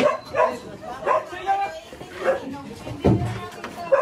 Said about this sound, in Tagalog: Hulihin na natin yung ganyang aso